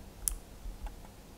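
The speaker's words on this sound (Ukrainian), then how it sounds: "Два рази натискаю ліву кнопку миші для підтвердження." A computer mouse's left button is clicked while working in Archicad drafting software. Quiet, crisp clicks sound close up against a faint hum, with no voices.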